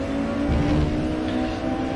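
A simulated 1992 Mercedes touring car at Oschersleben in the RaceRoom racing game holds a loud, steady engine howl at high revs, heard close from onboard with little change in pitch.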